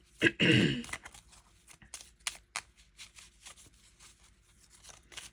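Paper prop money bills rustle and crinkle as they are shuffled, starting with a loud burst and continuing in softer, irregular flicks.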